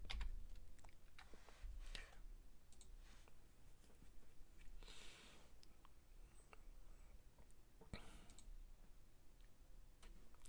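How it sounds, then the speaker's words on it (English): Quiet, irregular clicking of keys on a computer keyboard, short bursts of taps with small gaps, faint and close with no one speaking. "let me just type this in."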